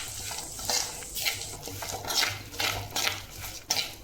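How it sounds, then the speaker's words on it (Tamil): Red samba aval flakes being lightly fried and stirred in a pan, a spoon scraping the metal in repeated strokes roughly every half second, close and alone with a soft sizzle beneath. "இப்போ நம்ம அது கூடவே சம்பா அவல் இல்லைன்னா ரெட் அவல் ஃப்ரை பண்ணிக்கலாம்."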